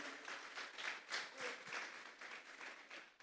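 A congregation at a Sunday church service claps together in a steady, dense wash of applause that fills the room and holds at an even level throughout.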